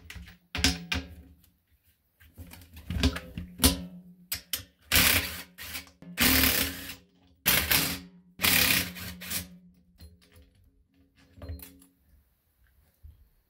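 A 9/16 socket wrench works loose the beadlock nuts on a military LMTV wheel. Bursts of ratcheting clicks come in short runs separated by pauses, close and moderately loud, no voices.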